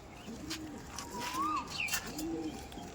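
Soft cooing from a male pigeon at a Madrasi pigeon loft repeats a few times against a steady background hum, with faint chirps from other birds.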